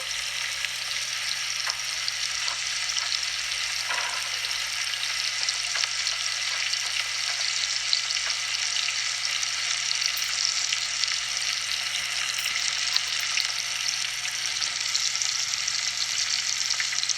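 Onions fry in a pan for a North Indian potato curry, giving a steady, close, continuous sizzle for the whole stretch with no talking.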